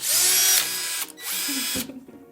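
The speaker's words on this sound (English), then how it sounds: "When you rev these babies up, you can immediately tell that the Milwaukee packs more punch than the Ryobi." Two 18-volt cordless drills, a Ryobi ONE+ and a Milwaukee M18, rev up loudly and close by in short whining bursts, each spinning up and cutting off, with no talk over them.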